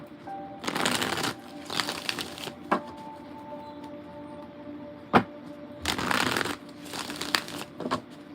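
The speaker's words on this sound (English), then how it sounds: "One more good shuffle." A deck of tarot cards is being shuffled in close, crisp riffling bursts with sharp taps between them, fairly quiet overall and with no talking.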